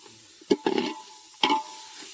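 Onion frying in a pan until browned, with a few sharp stirring scrapes and clatters standing out over a soft, steady sizzle.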